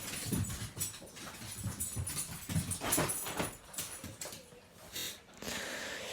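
An excited, hyper dog after eating maple syrup, with rapid pattering paws and scrabbling movement across a hard floor, plus a few soft whimpers, fairly close and busy throughout.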